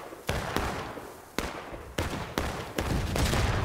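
Artillery fire in War of Rights, a Civil War battle game on Miller's Cornfield during a large historical-rules event: several sharp, loud booming blasts in an irregular volley, each with a rumbling tail, over steady battlefield noise.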